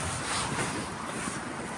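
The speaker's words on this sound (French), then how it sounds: "Effectivement, il y a pas mal de vent." Steady outdoor wind rushing and buffeting across the microphone, a continuous broadband roar with low rumbles, no voices.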